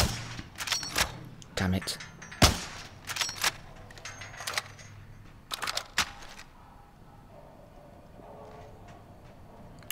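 Call of Duty: Warzone gunfire from an SMG Grau, a handful of sharp separate shots spread through the first six seconds over steady game ambience, with a brief spoken exclamation.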